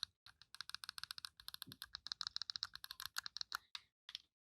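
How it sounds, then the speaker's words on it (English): Clicky face buttons and D-pad on a game controller being pressed in rapid, crisp bursts, a dense run of close, quiet clicks that thins out toward the end. "Face buttons, D-pad, shoulder buttons are all very clicky."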